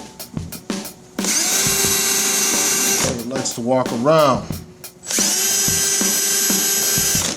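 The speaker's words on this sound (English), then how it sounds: "So we're using the spot weld drill." A spot weld drill whines loudly in two long high-pitched runs into steel on a 1989 Ford Mustang frame rail, with someone speaking briefly in the pause between them.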